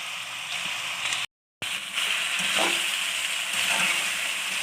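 Chinese rice frying in a pan with soy sauce and vinegar gives a steady, close sizzle and hiss, broken by a brief dropout and a few soft stirring scrapes.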